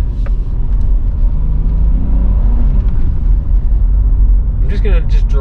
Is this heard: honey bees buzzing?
no